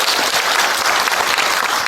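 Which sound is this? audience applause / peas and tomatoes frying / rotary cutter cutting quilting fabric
audience applause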